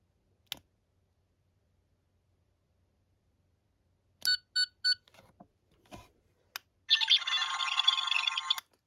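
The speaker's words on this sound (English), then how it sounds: "We now have the 13th Doctor's diagnostic sound" A 13th Doctor sonic screwdriver toy from Doctor Who clicks, gives a few short electronic chirps, then launches into a steady buzzing, warbling diagnostic tone lasting a couple of seconds, close and fairly quiet.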